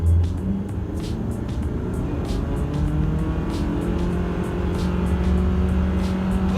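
Steady engine drone of a 2017 Mitsubishi Lancer ES with a 2.4L engine and AWD accelerating hard from a standstill, heard from inside the cabin, loud and continuous with rising tones and no talking.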